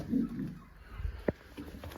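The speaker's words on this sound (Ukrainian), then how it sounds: "Міський голуб." Soft, low city pigeon cooing close by near the start, followed by scattered light taps and shuffling sounds.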